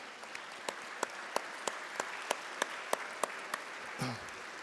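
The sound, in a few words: audience applause as the students leave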